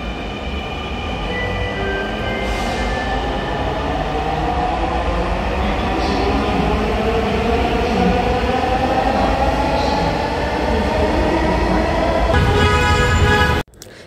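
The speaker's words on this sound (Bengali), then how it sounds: "যে ট্রেনটা করে আমি এসেছিলাম সেটা এখন ছেড়ে চলে যাচ্ছে।" A metro rail train leaving the station, its electric motors whining upward in pitch as it accelerates, loud and close, with a steady rushing rumble that cuts off abruptly at the end.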